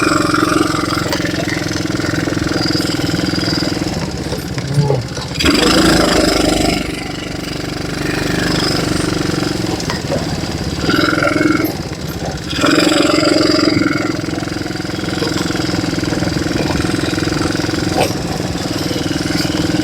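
An ATV engine running steadily and loud during a ride through the jungle, with a continuous rough drone that surges and eases at times as the vehicle moves.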